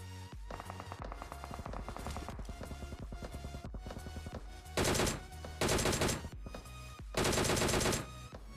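Gunfire in PUBG Mobile played on a Redmi Note 8 Pro: rapid close automatic bursts over background game audio, arriving in several loud strings separated by short pauses.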